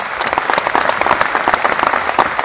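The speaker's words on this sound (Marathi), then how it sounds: "मला वाटतं त्यासाठी पण आपण टाळ्या वाजवतो" An audience at a public gathering claps steadily, a dense, continuous wash of applause holding at a fairly loud level for the whole stretch, with no voices over it.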